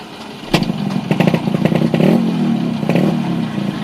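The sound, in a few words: motorcycle being ridden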